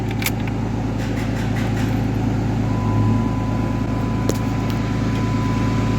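A Cummins diesel engine in a truck fitted with a G56 transmission runs at a steady idle, a continuous low rumble with a faint whine. A few brief clicks sound early and near the end.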